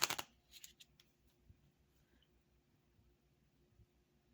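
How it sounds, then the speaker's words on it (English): Quiet shuffling of a small Lenormand card deck: a brief burst of riffling at the start, then soft intermittent flicks and rustles, close and faint. "Let's see how I'm going to shuffle this tiny deck."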